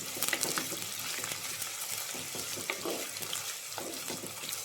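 Sliced onion dropped into three spoons of hot oil in a clay pan, frying with a steady dense crackling sizzle throughout, close and fairly loud.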